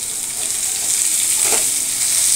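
Capsicum pieces for chilli paneer fry in a pan with a loud, steady, hissing sizzle that continues without a break and with no one talking.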